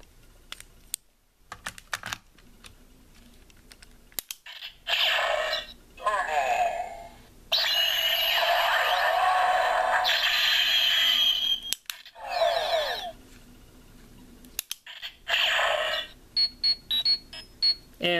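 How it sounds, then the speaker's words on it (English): A Power Rangers Legendary Morpher toy plays electronic tones in bursts: beeping chirps, warbling tones and a long sustained classic communicator sound, separated by clicks and brief silences. "you also get the communicator key, classic communicator sound for the other classic coins too"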